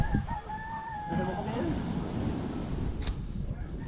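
Chickens on a Filipino property, a brief crow and clucking heard faintly in the background while people talk nearby throughout.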